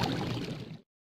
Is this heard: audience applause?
no